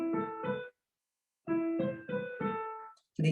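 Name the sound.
piano phrase ending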